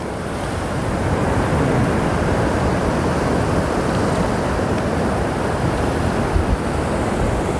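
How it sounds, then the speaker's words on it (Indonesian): Ocean waves at Ngobaran Beach, a continuous dense roar of surf breaking, steady and fairly loud with no pauses, heard alone without any voices. "Yang paling deket tuh di situ tuh ombaknya."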